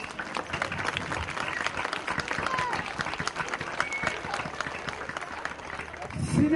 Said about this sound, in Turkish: Başkanımızı alkışlayalım lütfen.